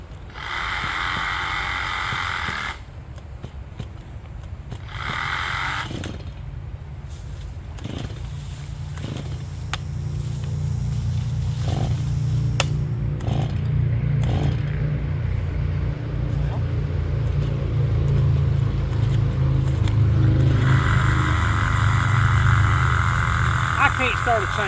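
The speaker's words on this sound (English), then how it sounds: "I can't start a chainsaw like that." A STIHL MS 180 chainsaw is pull-started repeatedly, the choke set and the saw braced: brief rasping bursts from the recoil cord, then a low, rough mechanical drone that never quite catches, as if flooded, up close.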